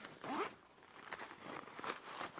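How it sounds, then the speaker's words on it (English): A zipper on a range bag being pulled open in a few quick, close, fairly quiet strokes, one long pull followed by shorter tugs, with no talking. "these little webs that help hold the bag in place kind of get in the way of the zipper when you're opening it"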